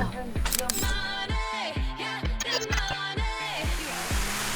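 A camera shutter fires in a rapid series of about ten clicks at a regular pace while shooting a bubble bath in a resort tub on Samui, with a busy, ringing background throughout.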